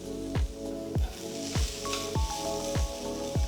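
Grated cabbage is stir-fried in a pan with a pinch of salt and pepper for spicy chicken noodles. A close, steady sizzle pulses with soft squishy tossing sounds about twice a second.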